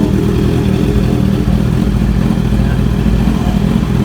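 A loud, raspy motorcycle with an aftermarket SC-Project exhaust roars continuously up close, its harsh, throbbing exhaust filling the whole stretch without a break.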